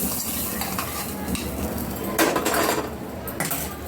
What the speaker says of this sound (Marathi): आपण ह्या तडका आता ह्या पचडीमध्ये टाकून घेऊया